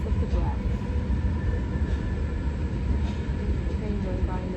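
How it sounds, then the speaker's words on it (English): A train passes in the background during a yoga class, giving a steady, broad low rumble with faint higher rattling that lasts the whole stretch without clear breaks. "Train going by in the background."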